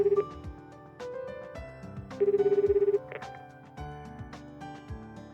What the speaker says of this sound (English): I pick up my phone and call home.